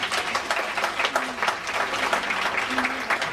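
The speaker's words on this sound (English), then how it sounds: "Let's give Dennis another round of applause" Steady applause from a church audience at a preaching session, dense clapping that fills the whole stretch with a few brief voices calling out underneath.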